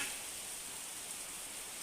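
Steady, even hiss of heavy rain pouring down, dense and continuous, with no voices over it.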